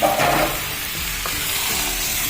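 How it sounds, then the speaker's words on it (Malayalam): Chicken vindaloo masala stirred in a pan, a close, steady sizzle with scraping stirs and a few soft clinks, no voices. "നന്നായിട്ടൊന്ന് മിക്സ് ചെയ്യാം"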